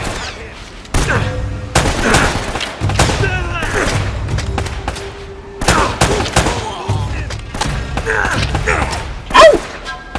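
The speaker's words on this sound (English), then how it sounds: "Where are they shooting me from?" Enemy gunfire in the video game Uncharted: Drake's Fortune, bursts of shots and metallic impacts that come and go over ten seconds, mixed with mechanical clanks and a sharp crack near the end.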